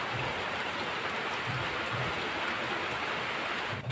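Steady rain falls, a continuous dense hiss of drops on surfaces, including small trees and a Yamaha YBR 125G motorcycle, with no voices.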